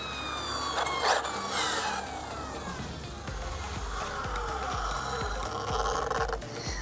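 A Hobao Hyper VS2 RC buggy makes a high-speed pass, its electric motor whining in rising and falling tones that sweep past loudly over steady outdoor noise, with no talking.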